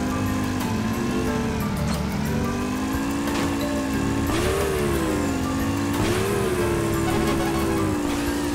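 Racing car engines whine steadily in the video game Mini Motor Racing X, a loud continuous buzzing drone whose pitch rises and dips as the small cars accelerate and ease off.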